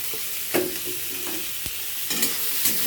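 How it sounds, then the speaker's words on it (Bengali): Onion and garlic frying in oil, a steady sizzle with occasional scraping and stirring clatters from a utensil in the pan. "পেঁয়াজ আর রসুনটাকে ভেজে নেবো"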